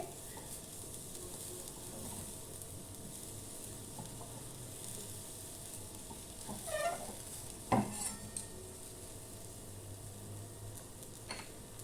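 Amrit vadi mixture stirred and sautéed in a pan over very low heat, a soft continuous sizzle with occasional scrapes and clinks of a spoon against the pan, close and fairly quiet.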